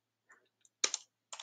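Short scattered clicks of a few keystrokes on a computer keyboard, close and quiet, arriving in two small clusters with silence between them and no talking.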